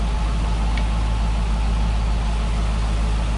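A C5 Corvette Z06 engine idles steadily after a coolant refill, a deep continuous low rumble, close and loud, with no voices.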